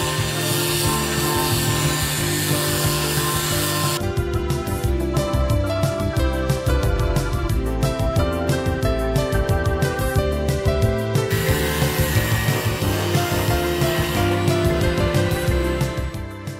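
An electric orbital sander running continuously, a steady close whirring buzz with a rapid rattling texture through the middle section.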